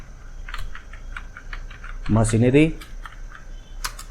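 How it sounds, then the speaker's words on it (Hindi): A computer keyboard clicks through a few scattered keystrokes during accounting data entry in Tally ERP 9, with a brief burst of nearby speech in the middle. "एंटर दबाते हुए एक्सेप्ट कर लिया"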